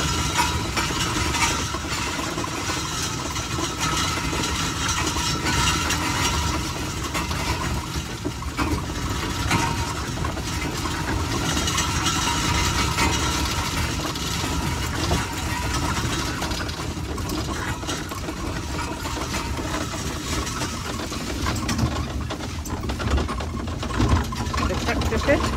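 An old engine runs in the heritage engine shed at Timbertown, Wauchope NSW, giving a steady, continuous rumbling drone throughout while people talk nearby.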